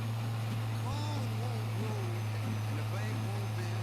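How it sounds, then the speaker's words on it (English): A tractor engine in the Farming Simulator 25 video game holds a steady, loud low drone throughout while a person talks over it. "Because to me, the tractor seems loud."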